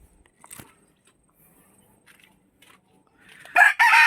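Chicken sounds from a nearby flock being fed Madre de Agua leaves: a few faint clucks and pecking, then a loud burst of squawking or crowing at the end.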